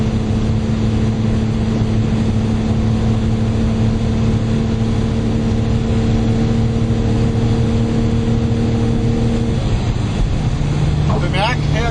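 Lotus Omega cruising in sixth gear at about 220 km/h and 2600 rpm, with low boost pressure and the oil warning light on; a loud, steady engine drone with road and wind roar, steady for several seconds before the tone shifts near the end.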